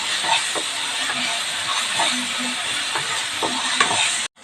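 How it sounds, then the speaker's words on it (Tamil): Ginger garlic paste sizzles and hisses steadily in a pan while being sautéed for a Tamil-style ivy gourd (kovakkai) gravy, with faint stirring scrapes rising through the dense frying noise. "பச்சை வாசனை போகிற வரைக்கும் இஞ்சி பூண்டு பேஸ்ட்டு நல்லா வதக்கி விட்டுடலாம்."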